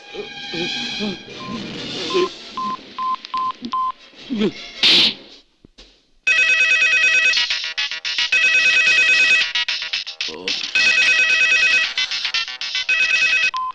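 In a Bangla movie scene, a phone dials with short beeping tones, then a loud electronic ringtone trills in repeated bursts separated by brief pauses, close and clear.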